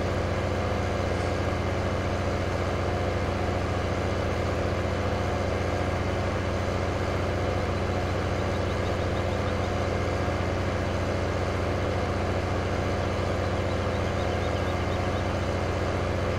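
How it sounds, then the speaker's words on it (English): A combine harvester engine runs steadily at a constant idle-like drone, loud and close, with a heavy low rumble and no pauses or voices throughout. "The other combine now."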